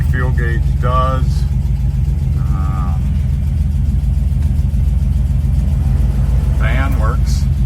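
A 1961 Ford F100 pickup engine runs at a steady low idle up close, a constant throbbing rumble, with someone talking briefly over it.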